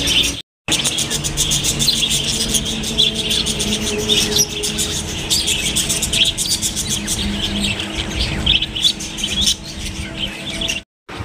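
Many birds chirp and tweet continuously inside a cage beside a Hindu temple, a dense, busy chorus of overlapping calls that keeps going for about ten seconds.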